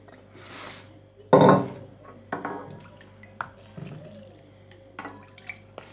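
Water pours from a tap into a bowl of flour, with yeast already added, for homemade bread dough. A loud splash comes first, followed by softer trickles, drips and clatter close by in a kitchen.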